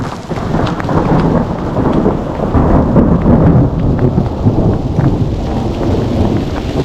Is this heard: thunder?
yes